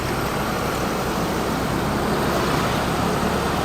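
Heavy road traffic crawls past Pasar Kramat Jati market in Jakarta, a constant broadband rumble of idling and moving vehicles heard up close without a pause.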